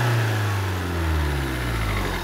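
A Ford Focus Euro 5 engine with Siemens injectors, in a workshop, revved hard and then let back down toward idle, a loud, steady low engine drone filling the whole stretch with no talk.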